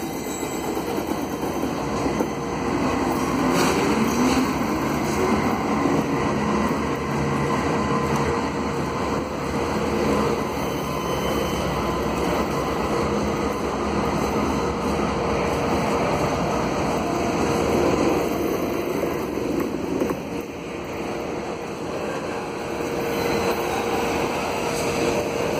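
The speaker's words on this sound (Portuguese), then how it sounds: "agora o Locotrol passando." A long freight train with a mid-train Locotrol remote locomotive rolls past at Guarujá, São Paulo, a loud sustained rumble of wagons and wheels on rail with faint clickety-clack, steady throughout and without talk.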